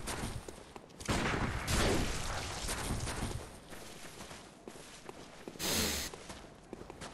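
Blunderbuss blasts in Bloodborne PvP combat, a few loud broad bursts among scuffling game sounds and rustling, one strong burst standing out near the end.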